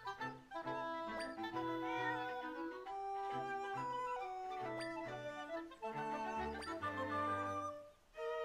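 A cat meows in the video game Zelda: Echoes of Wisdom over steady, layered game music that fills the whole stretch.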